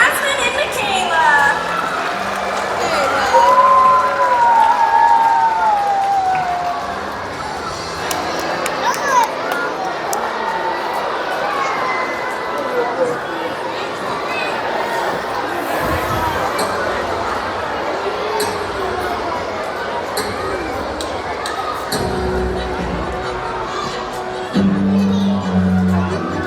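Audience at an aquarium dolphin show clapping and cheering in a large venue, mixed with crowd chatter and splashes, with an announcer's voice over the applause.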